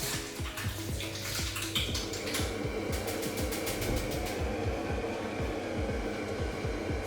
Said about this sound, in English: I'm just going to wash my hands again because of the touching stuff.